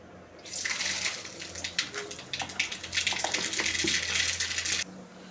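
Mustard seeds and urad dal crackle and sizzle in hot oil in a pan as tempering for a bottle gourd and pumpkin sambar, a dense steady hiss with scattered sharp pops, close and loud, stopping abruptly near the end.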